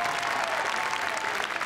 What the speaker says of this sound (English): she deserves a big cheer